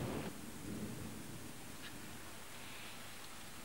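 Heavy rain with thunder on a reality-show island, a dense steady hiss of downpour with a low rumble at the start, loud and continuous with no talk.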